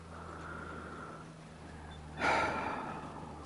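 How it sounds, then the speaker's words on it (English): A dog breathes close by in a quiet room, a soft snorting exhale sweeping up and then trailing off over a low steady hum, with no speech. "Oh, it's my dog breathing."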